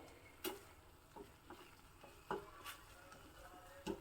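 Lemon chutney ingredients frying in a pan, with soft sizzling under a few scattered stirring clicks and scrapes at irregular intervals, close and fairly quiet.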